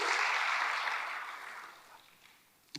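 A church congregation applauds in a soft, even wash of clapping that fades steadily away over a couple of seconds, ending with one faint knock.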